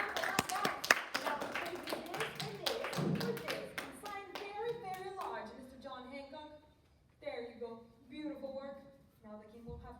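Children in a classroom clap in a burst of fast, uneven applause that fades after a few seconds, followed by a child and an adult talking.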